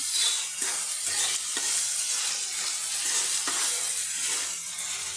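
Fried carrots go into a pan of simmering pea curry (motor bhuna), bringing a steady, moderately loud sizzle and frying hiss broken by a few short stirring scrapes, with no voices.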